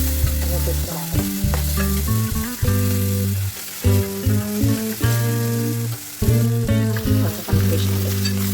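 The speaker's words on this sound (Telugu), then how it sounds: "పాలకూర పెసరపప్పు ఫ్రై చేస్తున్నాండి" Spinach and moong dal fry in a pan, sizzling loudly up close while a spoon stirs with repeated scraping and clinking, and the sounds run on without any talk.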